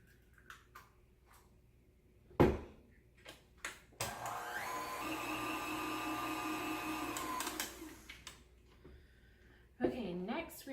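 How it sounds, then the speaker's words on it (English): An electric mixer beats an egg into peanut butter chocolate chip cookie dough, giving a steady whirring motor whine for about four seconds, preceded by scattered clicks and bumps of handling. "Next, we're going to beat in 1 egg."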